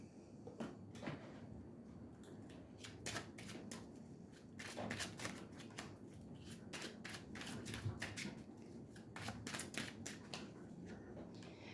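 Tarot cards shuffled by hand, a run of quick crisp riffles and soft slaps in uneven bursts, fairly quiet and close against a low steady background hum, with no talking.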